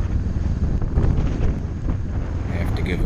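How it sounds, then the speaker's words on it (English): Strong wind roaring into the microphone while riding a 2016 Honda CBR500R on a cold, cloudy day: a loud, continuous rumbling buffet with no breaks. "it's just windy as hell"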